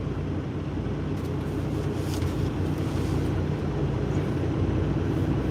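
A truck engine idles close by, a steady low rumble with a broadband hum that holds constant, mixed with some wind buffeting on the microphone.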